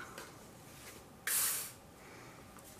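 A short burst of WD-40 silicone aerosol spray hisses for about half a second into an empty cup in an otherwise quiet room.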